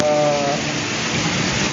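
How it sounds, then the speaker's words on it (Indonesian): Light drizzle falls steadily during a flood in Karawang, a soft continuous hiss of rain that runs the whole moment with a faint tonal hum early on. "Ini masih hujan ya, hujan rintik-rintik ini."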